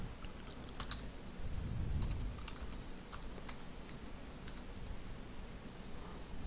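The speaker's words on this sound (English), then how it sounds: "We're going to type in name and email" Fingers type on a computer keyboard to fill in a name and email in a web form, giving a steady run of light clicking keystrokes close by with faint background hum.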